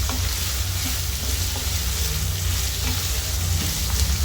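Thinly sliced cabbage stir-fries in a hot pan for fried rice, with a loud, unbroken sizzle and a dense crackle that holds steady throughout.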